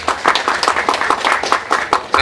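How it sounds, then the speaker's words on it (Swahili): An outdoor crowd at a public rally in Kyela gives Mr Simon a round of applause, close, loud and fairly rhythmic clapping for a couple of seconds. "Naomba tumpigie makofi bwana Simon."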